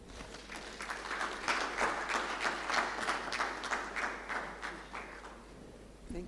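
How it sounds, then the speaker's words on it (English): Applause from an agriculture conference audience: a sustained wash of many hands clapping, fairly distant and soft, rising slightly then tapering over several seconds, with no voices over it. "Another round of applause for him, please."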